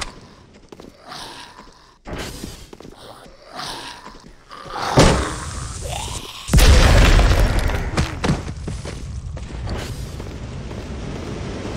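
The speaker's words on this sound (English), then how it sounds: "This time we'll blow up the barrel." In the video game Heaven Dust 2, a barrel is blown up: after scattered footsteps and game noises, a deep boom bursts out, then a second louder blast that rumbles and fades slowly.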